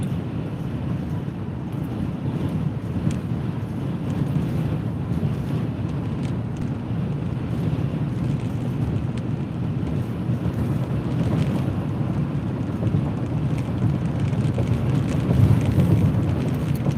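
Strong wind gusts during a severe thunderstorm buffet the microphone outdoors, producing a steady loud roar of low rumbling noise throughout that swells slightly toward the end, with no talking.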